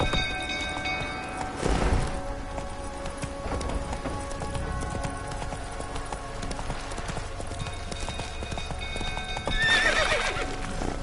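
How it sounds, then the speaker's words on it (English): Horse hooves clip-clopping steadily in The Witcher video game, with a loud neigh near the start and another whinny toward the end, over a busy background of game ambience. "Whoa there, Roach"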